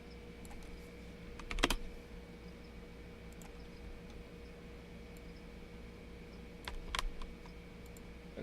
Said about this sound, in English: And sorry about the typing noise.